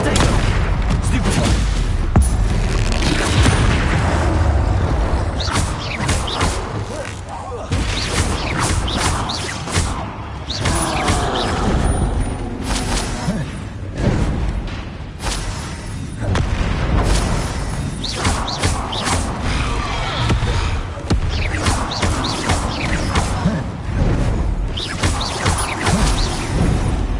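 Repeated booming blasting-spell explosions from the Hogwarts Legacy video game, dense and loud throughout with continuous crackling impacts and clattering effects layered over one another.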